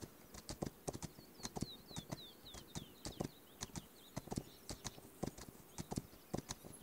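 Wild horses galloping in the survival game This Land is My Land produce rapid, rhythmic hoofbeat clip-clops, fairly close, with faint bird calls or whistles in the background and no talking.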